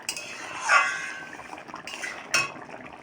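A utensil clinks and scrapes against a cooking pan while a dish is stirred, with a few sharp metallic chinks over a quiet background.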